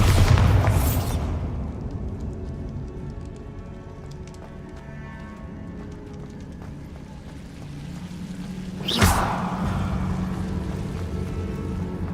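A Bombarda spell blast goes off in the game Hogwarts Legacy. Two booming bursts, one at the start and another near the end, land over a low, continuous game ambience.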